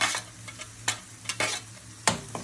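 Green chilies hit hot oil in a pan and are stirred, giving a soft steady sizzle broken by a few sharp spoon scrapes and clatters, close and fairly quiet.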